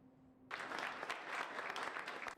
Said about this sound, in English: Applause and laughter fill the room as the audience welcomes Omar Abelvizi.